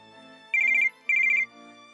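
A telephone rings twice with a bright, pulsing electronic trill, each burst under half a second with a short pause between, clear and alone over a quiet room during a tense domestic drama scene.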